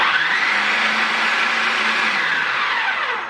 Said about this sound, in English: you want to pack in all that basil in there. Then you want to pulse that again.